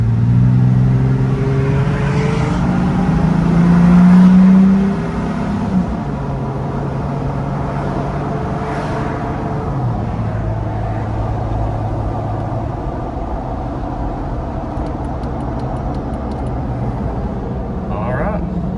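A Jeep Wrangler JK fitted with a new aftermarket exhaust accelerates, giving a deep loud rumble that rises in pitch through the gears, then settles into a steady droning cruise.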